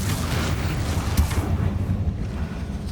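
A Confringo blasting spell explodes in Hogwarts Legacy, a broad rumbling boom that rolls on as a dense low roar across the whole moment, with a brief sharp burst partway through and no voices.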